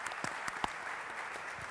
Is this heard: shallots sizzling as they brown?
no